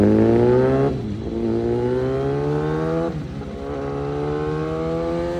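A 2009–2011 Suzuki GSX-R1000 L1 with a 999cc liquid-cooled inline-four revs loudly up close, climbing in smooth sweeps, dropping twice and climbing again with no one talking.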